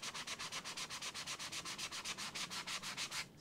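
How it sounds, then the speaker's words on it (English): EVA foam coated with gap filler being wet sanded by hand with a sanding pad and a little water, giving a close, steady back-and-forth rasping scrub of about six strokes per second, with no talking. "I'm going to take this sanding pad,"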